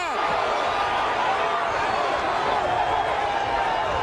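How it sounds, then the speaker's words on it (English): A boxing arena crowd roars steadily in a loud, continuous wash of cheering during a Roman Gonzalez versus Juan Francisco Estrada fight, with commentators talking over it. "This crowd is erupting."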